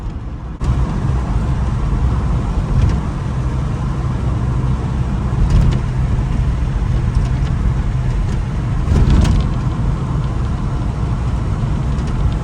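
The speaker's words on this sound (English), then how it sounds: "She drives like a new one" An old barn-find car drives along a road, its engine and road rumble holding a loud, steady drone from start to finish, with a few brief rattles over rough riding.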